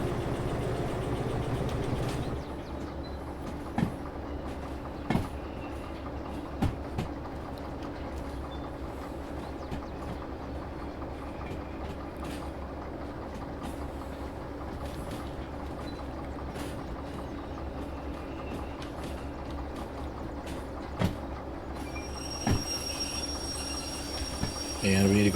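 A train in the railway game Derail Valley rolls along the rails with a steady low rumble and engine hum, punctuated by occasional clanks from the track and a few faint squeals, with a voice talking over it at times.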